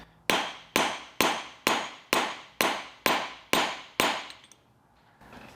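Nine sharp, evenly spaced hammer blows ring out on copper shaped against a ball bearing used as an anvil, each strike loud and close with a brief metallic decay, ending in quieter rustling.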